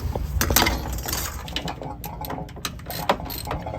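Metal parts of a Sta Rite Max E Therm pool heater being worked on during a repair as screws are taken out: close clinks, ratcheting clicks and small metallic rattles in an irregular rhythm, with a faint steady whine behind.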